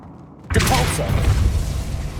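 Depulso force spell cast in Hogwarts Legacy: a sudden loud whooshing burst with a low boom, followed by a rumbling magical tail that slowly fades.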